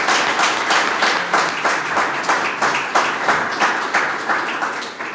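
A council session audience claps after a unanimous vote, a dense, steady round of applause with rhythmic pulses, fairly loud and close, lasting the whole stretch without talk.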